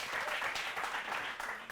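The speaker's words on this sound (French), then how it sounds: "Merci beaucoup, on va applaudir très très fort." Crowd at a stage performance applauds the performer, a brief burst of dense, fairly faint clapping.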